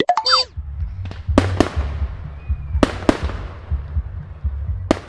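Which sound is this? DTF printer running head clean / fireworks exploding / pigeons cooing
fireworks exploding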